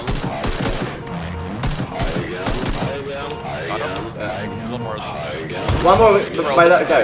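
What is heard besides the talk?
gunfire in a video game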